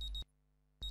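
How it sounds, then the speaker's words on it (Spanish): Electronic alarm beeping in the video game No, Thank You: a loud, bright buzzing tone that cuts off abruptly, falls silent for about half a second, then starts again, with no talking. "Oh, alarmas."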